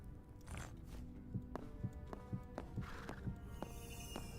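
Faint, regular hoof clip-clops from a skeleton horse in the video game Hytale plod along at an even pace, with a soft snort or whinny near the end.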